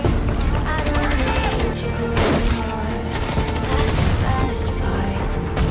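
Sustained gunfire rattles loud and close in a jungle firefight against a Mexican drug cartel, dense overlapping bursts and shots filling the whole stretch without a pause.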